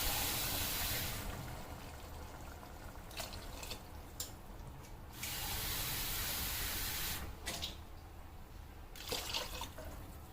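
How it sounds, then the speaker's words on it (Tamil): Water is poured into a pot of rice for methi rice, a soft rushing splash that comes in a few separate bursts with short pauses in between, close by and fairly quiet. "இப்போவுமே போட்டுருவோமா 3 கிளாஸ் தண்ணி?"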